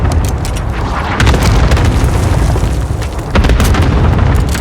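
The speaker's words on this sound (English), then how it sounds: "Allied cluster strike incoming" Cluster strike explosions in a video game battle, a rapid string of heavy booms and bursts that is loud and close, with a fresh swell of blasts partway through and no talk over them.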